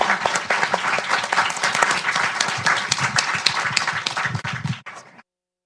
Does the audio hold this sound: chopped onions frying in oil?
no